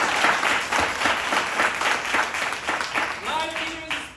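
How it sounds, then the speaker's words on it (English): Audience clapping at an improv theater show, a steady wash of many hands that carries on throughout, with voices mixed in and a brief whistle-like tone near the end. "Give yourself a round of applause for supporting live theater"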